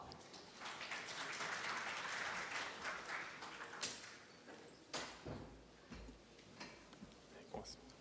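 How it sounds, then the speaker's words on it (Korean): Conference audience clapping to welcome a presenter at an AWS IoT talk, a dense round of applause in the first few seconds that thins into scattered claps and room shuffling. "큰 박수로 맞이해 주세요."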